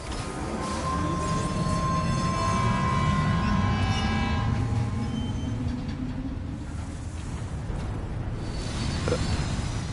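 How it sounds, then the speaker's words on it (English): A monorail in Death Stranding 2 pulls away from a station with a steady loud mechanical rumble, a long high whine that swells and fades, and faint rattling as it gathers speed. "Monorail bound for Fort Knott Station will be sent on its way."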